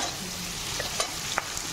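Rohu fish fritters fry in hot oil with a steady, close sizzle and a few soft clinks and stirring taps, with no talking.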